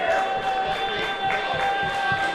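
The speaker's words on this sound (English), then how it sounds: "You can hear everybody cheering." A baseball crowd at an opening-season game cheering and clapping, a dense continuous roar with rhythmic claps pulsing through it, no distinct voices standing out.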